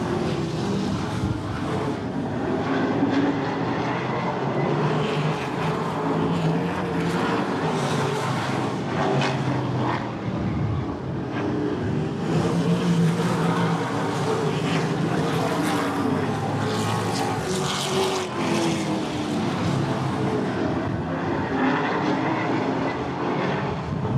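ASA late model race cars with crate motors racing at I-94 Raceway, a steady loud roar of several engines throughout with shifting whine as the pack circles the track.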